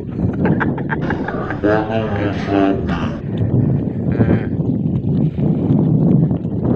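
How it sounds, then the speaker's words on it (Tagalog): Strong gusty wind at Catalina Lake roars and buffets the microphone while a person talks over it, with low rumbling noise throughout. "napaka lakas ng hangin"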